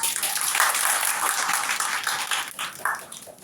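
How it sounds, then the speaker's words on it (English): An audience at a university live session claps for a few seconds, a dense patter of hands that peaks early and then thins out and fades. "A round of applause for you guys, please, first."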